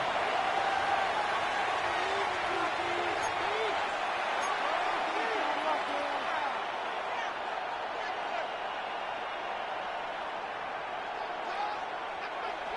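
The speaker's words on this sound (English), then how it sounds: "This crowd into it now as we get to 3rd down" Crowd at a football stadium in Minnesota roars steadily through a third-down play, a dense, loud wash of cheering that holds for the whole stretch with faint voices mixed in.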